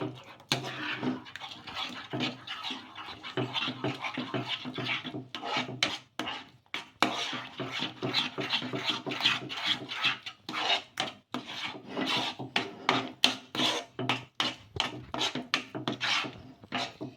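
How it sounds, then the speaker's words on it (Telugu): Bombay rava semolina is stirred into boiling water in a pot, giving steady rapid scraping and rasping strokes of the spoon against the pot, close and continuous with no talk. "మనం ఈ బొంబాయి అయితే వేసేసుకోవాలి ఎక్కడా కూడా ఉండలనేది లేకుండా బాగా కలిపేసుకోవాలి"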